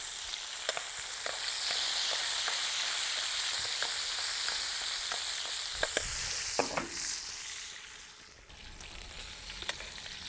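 Sussex lamb loin and belly sizzle steadily in hot oil with rosemary, a loud continuous crackle peppered with small pops and a brief clatter of the pan being moved.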